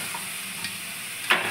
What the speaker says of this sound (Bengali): এবার আমি কড়াইয়ের মধ্যে এটাকে দিয়ে দেবো।